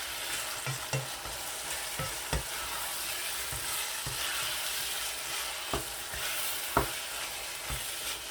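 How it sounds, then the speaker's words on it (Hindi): Green chilies being stirred into frying keema mutter, a loud continuous sizzle with repeated spoon scrapes and knocks against the pan. "सब्ज़ मिर्चें मैं ऐड करूँगा। और इस तरह से इनको मिक्स कर दूँगा।"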